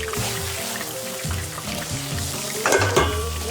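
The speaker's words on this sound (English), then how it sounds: "Just drop them straight into boiling oil, fry them off." Grasshoppers frying in boiling oil with Worcestershire sauce, a steady close sizzle and crackle with soft stirring clatter and a brief splashy burst near the end.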